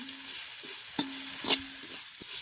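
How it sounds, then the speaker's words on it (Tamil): Vegetables are stirred in a cooking pot, making a soft sizzle along with intermittent clinks and scrapes of the spoon against the metal, with a faint ringing tone between strokes. "நாங்கள் எல்லாத்தையும் சேர்த்து நல்லபடியாக கிண்டி விடுவோம்"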